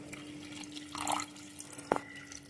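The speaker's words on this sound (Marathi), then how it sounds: "वांगा आता व्यवस्थित परतलं आहे तर मी त्याच्यामध्ये पाणी टाकते" A short, soft trickle of water splashes into a pan of sautéed brinjal, with a couple of faint drips and a brief splash near the end.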